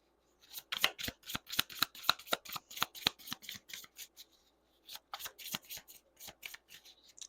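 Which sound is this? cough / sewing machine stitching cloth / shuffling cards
shuffling cards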